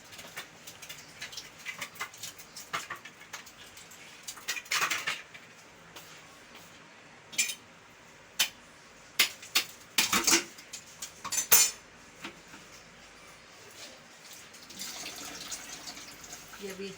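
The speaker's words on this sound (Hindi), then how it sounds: "अब इसके अंदर हम डालेंगे बर्फ़।" Ice cubes clink and rattle into a glass of raw mango squash with mint, in several sharp bursts among kitchen clatter.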